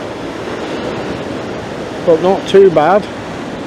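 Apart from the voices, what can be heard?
sea waves crashing at a pier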